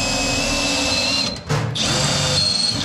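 A power drill fitted with a double-ended bit whines loudly while drilling, cuts out briefly for about a second and then spins up again, close by and with no talk.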